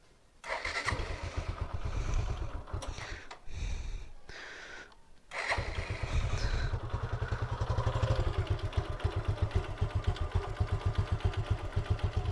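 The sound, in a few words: Suzuki Gixxer motorcycle engine starting and idling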